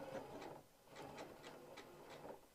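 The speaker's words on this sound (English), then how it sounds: "What on earth is going on with my sewing machine?" A malfunctioning sewing machine runs faintly in a quiet room with a soft rhythmic clatter of needle strokes, several evenly spaced knocks in a row, and no talk.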